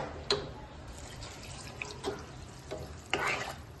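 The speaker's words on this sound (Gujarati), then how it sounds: "હવે આપણે પાણી નાખી દઈશું" Water splashes and trickles into a pot of rice and soya chunks in a few short pours, the sound close and fairly soft, with no talking.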